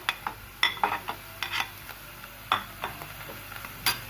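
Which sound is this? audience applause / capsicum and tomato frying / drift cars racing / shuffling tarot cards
capsicum and tomato frying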